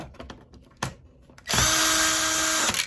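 Screws come out of a Dell OptiPlex desktop being scrapped. A few scattered handling clicks come first, then a powered driver whirs loudly and steadily for just over a second.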